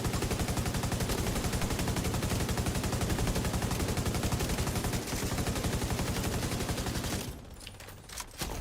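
Sustained rapid-fire gunfire from a video game rattles in a steady, loud stream of closely spaced shots for about seven seconds, then drops away abruptly to a quieter background.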